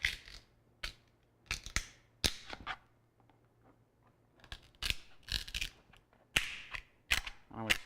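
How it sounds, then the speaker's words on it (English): A flathead screwdriver pries apart the halves of a two-piece Kydex sheath, giving sharp plastic snaps and cracks in irregular bursts with short quiet gaps between them. "So I'm going to use a flathead screwdriver to help me get up in here."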